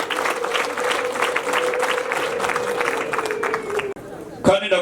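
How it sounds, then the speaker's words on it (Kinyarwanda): An audience applauds warmly at a wedding-style celebration hosted by an MC. Dense clapping mixes with crowd murmur and a sustained tone, then cuts off abruptly near the end before a brief burst of sound. "bantiza amashyi bagushimire cyane"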